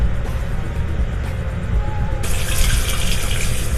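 Running tap water at a sink while a face is rinsed and washed: a steady, close splashing rush of water that grows brighter and louder midway, with no talking.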